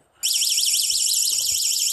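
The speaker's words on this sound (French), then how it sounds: "Et vous avez donc le mode alarme avec une sirène en 90 décibels." A sharp 90-decibel electronic alarm siren from a Xiaomi Nextool survival flashlight starts abruptly and wails continuously, warbling rapidly up and down at high pitch, loud and close.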